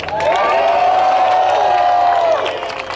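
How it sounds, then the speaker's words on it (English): Crowd at an SEIU rally of Uber drivers pushing for $30 an hour near Los Angeles City Hall, cheering and applauding loudly for about two seconds with whoops and a sustained shout over steady outdoor noise before it fades. "let's give a round of applause. SEIU 721."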